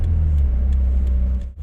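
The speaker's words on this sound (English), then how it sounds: "And now I'm just slowing down, coming to a stop, clutch in, brake." Manual car coasting to a stop with the clutch in and brakes applied, a loud, low, steady engine rumble inside the cabin that drops away near the end.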